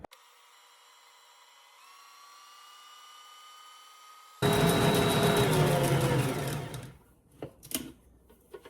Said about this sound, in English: So let's move on over to the mixer.